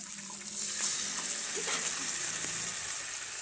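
Alamang bagoong (shrimp paste) sizzles steadily in a pan while being stirred, a constant bright frying hiss with occasional soft scrapes, close and even throughout.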